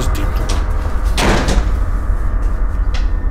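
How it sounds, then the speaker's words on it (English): A house door is shut, a single loud bang landing in the middle of a low, rumbling room background. "shut this damn door"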